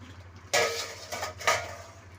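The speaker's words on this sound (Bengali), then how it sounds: "আচ্ছা, এবার ঢাকাটা খুলে দিলাম" A metal lid comes off a cooking pot of simmering Bengali shukto with a sharp clank, followed by two lighter metallic knocks and scrapes against a low kitchen hum.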